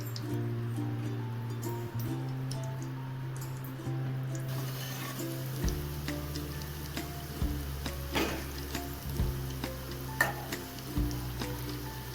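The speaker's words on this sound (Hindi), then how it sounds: "तो चलिए अब डाल देते हैं कचौरी तलने के लिए।" Kachori lowered into warm oil for deep frying, a steady soft sizzle running through, with a few low clunks and small pops as pieces settle.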